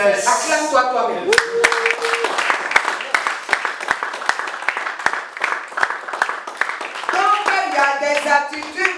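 Church congregation clapping along in rapid, steady rhythm throughout a worship service, with loud singing or shouted voices layered over the claps.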